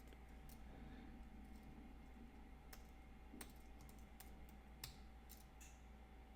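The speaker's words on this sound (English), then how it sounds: "I'm going to type that in." Soft, quiet keystrokes tap out a device ID on a keyboard, a sparse run of individual clicks over a steady low hum with no talking.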